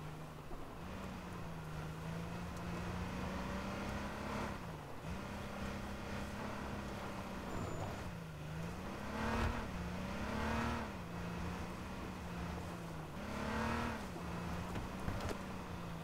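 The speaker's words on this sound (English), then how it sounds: "Oh, I see a car." A car engine in the H1Z1 battle royale video game drones steadily and fairly loud, its pitch dipping and rising several times as it revs and shifts, with no talking over it.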